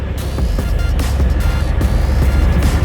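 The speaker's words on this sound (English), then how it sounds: "Truck runs and drives." A 2020 Ram 1500 Rebel pickup truck engine runs steadily at idle, a continuous low rumble with a faint high whine, heard up close and alone without talk.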